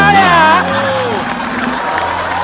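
A studio audience at a Marathi comedy show cheers and claps after a prize announcement for a straw-craft contest, opening with a loud sung or shouted cry over the crowd, then settling into steady applause and cheering.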